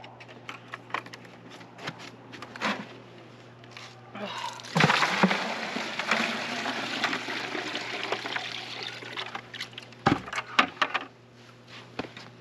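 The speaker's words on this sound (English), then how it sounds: "And then I will mix it with this bucket here." Poultry supplement powder is stirred into a water bucket for ducks: light taps and rustles give way to a sustained swishing, sloshing stretch of stirred water, then scattered knocks, with faint talk in the background.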